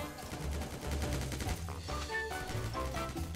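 Rapid bursts of gunfire in Roblox Animal Battles crackle continuously over a dense, loud game soundtrack with rumbling low tones.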